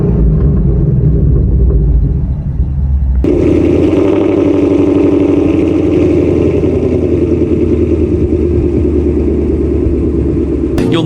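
A Ford Mustang GT engine idles with a low rumble and then revs up sharply, its loud, steady roar holding high for several seconds, close by with no talking.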